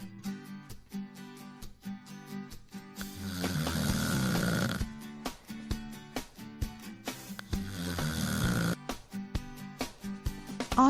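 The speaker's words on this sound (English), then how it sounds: "Do you snore when you sleep?" A sleeping person snores loudly in a slow, regular rhythm, each long rasping inhale followed by a pause, repeated several times close to the listener.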